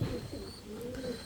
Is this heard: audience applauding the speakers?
no